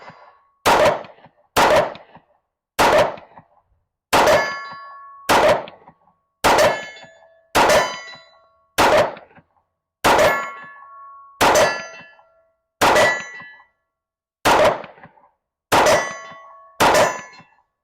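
A Staccato C2 pistol fires fourteen shots at an evenly spaced, deliberate pace, each crack followed by a bright metallic ring as the round strikes a steel target at 50 meters, with no talking.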